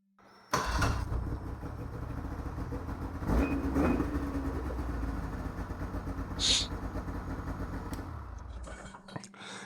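A Ski-Doo XP snowmobile engine starting after a grease service, heard as an abrupt catch followed by a steady, rumbling idle. The engine stays close and fairly loud throughout, with a brief higher squeak partway through and a voice speaking over it.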